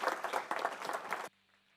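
A church congregation breaks into brief, dense applause lasting just over a second, then it stops abruptly, leaving faint room hum.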